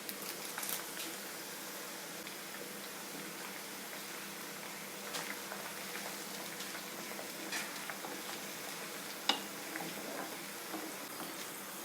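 Curry leaves sizzle and crackle steadily in hot oil for a cut mango pickle. Dense, continuous frying fills the whole stretch, with scattered sharp pops and one louder crack near the end, and no talking.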